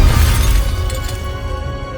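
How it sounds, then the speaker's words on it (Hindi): A glass lantern thrown and shattering, a loud crashing burst of breaking glass with a rumbling low end that fades over about two seconds, close and without voices. "कांच टूट गया, तेल फैल गया और आग लग गई।"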